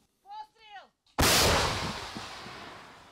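A soldier's voice gives short commands in Ukrainian, then a single huge blast from a D-44 field gun erupts, its roar decaying slowly over a couple of seconds.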